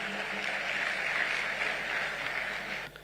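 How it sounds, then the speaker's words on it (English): Applause from an audience at the 13th John Evans Atta Mills Memorial Lecture, welcoming the chief of staff for closing remarks; steady, dense clapping that holds for about three seconds, then drops away at the end. "Please welcome him with a round of applause."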